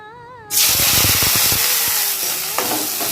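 Small-cut brinjal (eggplant) pieces hit hot oil with a sudden loud hiss, and a dense sizzle carries on steadily after a brief hum.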